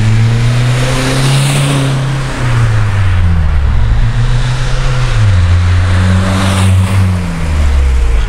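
Close and loud, a car pulls away on a test drive after ABS repair work. Its engine revs climb, drop at each gear change, then rise again in repeated surges.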